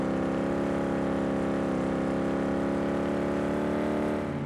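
In the video game Car Mechanic Simulator 2018, a wrecked 18-wheeler truck engine with exhaust damage revs steadily, producing a loud, continuous droning tone that holds constant for several seconds before easing slightly at the end, with no speech.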